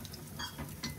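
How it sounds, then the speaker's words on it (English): Food sizzles and crackles in a hot pan, a steady close frying hiss with brief louder bursts of spatter. "This is sizzling hot, okay? Fried up."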